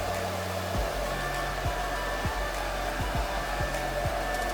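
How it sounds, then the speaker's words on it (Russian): A hair dryer running at a salon styling chair, a steady loud blowing whir with a constant motor hum and occasional airflow shifts, no talking. "Стилист подключила фен"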